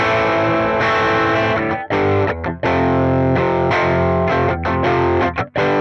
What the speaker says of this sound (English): what you can also do with the tube screamer is put the overdrive down and use it as a boost.